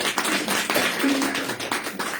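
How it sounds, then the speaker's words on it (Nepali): An audience applauding, a short patter of clapping hands at moderate volume, fairly close, with no talking over it. "धेरै ताली"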